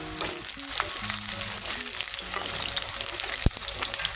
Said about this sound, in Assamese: এতিয়া দি দিম আলুখিনি অকণমান ফ্ৰাই কৰাকে